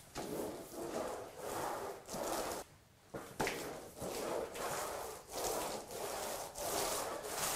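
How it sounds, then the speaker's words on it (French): Paint roller with a 10 mm nap spreading floor primer in one even coat indoors, making close wet rolling swishes in regular back-and-forth strokes with a brief pause midway. "Le primaire s'applique avec un rouleau de 10 mm de mèche"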